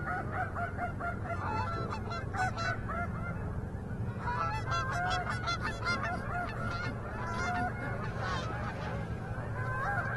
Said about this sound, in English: Oh my lord, do you see the geese coming